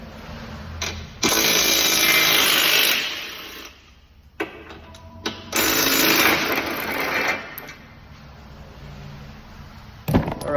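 A cordless Bosch battery power tool whines loudly in two long bursts with short stops between them, and a brief third start comes at the end, heard alone in a garage while working on a 2006 Cadillac CTS.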